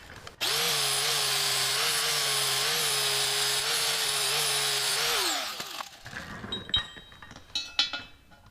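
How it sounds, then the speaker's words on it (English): A flap disc on an angle grinder strips paint from steel with a loud, steady high whine for about five seconds, then winds down into scattered metallic clinks and knocks. "We'll just grind away here just to get the paint off."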